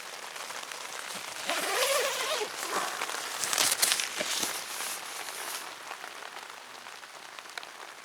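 Rain falls steadily on a campsite in Wiltshire during a bushcraft camp, a dense patter of drops on surfaces with a few louder spatters and rustles, close and continuous with no talking.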